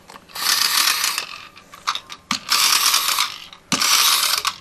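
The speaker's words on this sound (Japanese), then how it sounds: "上から押しながら動かすと音が鳴るよ" A toy Plarail train from a McDonald's Happy Meal gives off a loud, close ratcheting whir as it is pushed down and rolled, in three long bursts with short clicky gaps between them.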